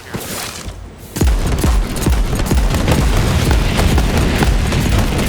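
Moze fires her guns in Borderlands 3 with dense, loud, continuous bursts of video game gunfire. Rapid booming shots overlap after a brief quieter lead-in.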